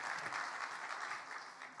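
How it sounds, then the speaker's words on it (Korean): Congregation in a church clapping during a Sunday evening worship service, a dense steady burst of applause that fills the whole short stretch without letting up. "박수."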